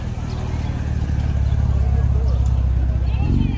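A classic car with a truck-sourced six-cylinder engine rumbles past at a car meet, a deep throaty growl that swells louder, with crowd murmur in the background.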